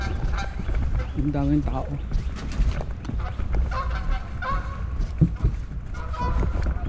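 Ducks honking outdoors during a long bicycle ride, their calls mixed with the murmur of a crowd and ambient noise, while a person talks over the sound.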